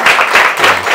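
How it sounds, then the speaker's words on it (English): A classroom of students applauds their class captain, a dense, steady burst of many hands clapping close by for about a second. "Let's clap for her."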